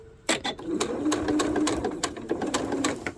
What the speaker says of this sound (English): So I will sew onto a ender here